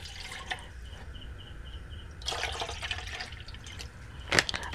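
Lukewarm water being poured while making curd from powdered milk, a soft steady trickle with a few drips and splashes, close and fairly quiet, with a louder splash near the end.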